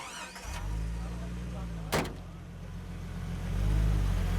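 A car engine idles and revs as the vehicle pulls away on a street in Kathmandu, with a brief thump like a door shutting partway through and the engine swelling louder near the end.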